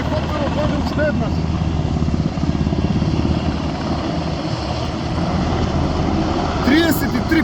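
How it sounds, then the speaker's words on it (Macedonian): Firefighting helicopter passing overhead during wildfire response, a loud continuous rotor and engine drone throughout, steady and close, with a brief sharper rise near the end. "Додека ги набројував овие пожари, хеликоптерот дојде уште еднаш."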